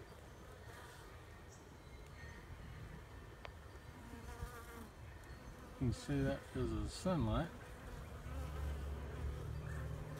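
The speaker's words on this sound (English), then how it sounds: "Got bees going in and out of it." Bees buzz steadily around a swarm trap set in a tree, a busy hum of many insects flying in and out, with a person talking over it partway through.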